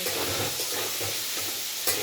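Ghee fries in a pan with a steady, close sizzle and hiss, broken by a few soft stirring scrapes.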